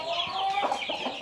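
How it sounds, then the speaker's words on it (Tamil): A country-breed hen on a small farm gives a short, close run of clucks that stays clear and fairly loud over its brief length. "அதில் தப்பிச்ச கோழி தான் இது"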